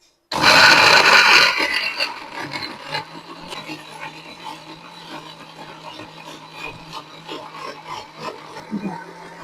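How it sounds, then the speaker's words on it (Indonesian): A kitchen blender whirs on at full power as it purees soaked chili peppers with clean water. A loud harsh grinding opens the run, then it settles into a steadier, softer whirring that continues to the end. "Kita blender."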